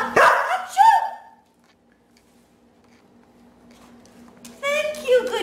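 A dog trained to fetch tissues gives a couple of sharp, close barks at the start, followed by near silence and then a person's voice.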